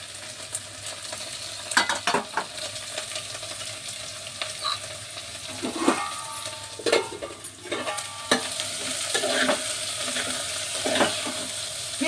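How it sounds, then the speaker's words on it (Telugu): Onion pieces with turmeric and salt cook in a pan with a continuous close sizzle, broken by irregular scraping stirs and a few sharp utensil clinks, with no speech. "ఉల్లిపాయ ముక్కల్లో పసుపు వేసుకుని సాల్ట్ వేసుకుని మగ్గ పెట్టుకోవాలి"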